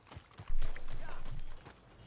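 Horse-drawn wagons rolling through a town in a Wild West roleplay video game, rhythmic clip-clop of hooves swelling loudly as they pass close by, then fading, with faint voices underneath.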